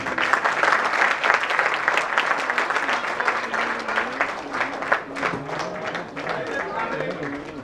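Loud sustained applause from a theatre audience, dense steady clapping with a voice speaking over it.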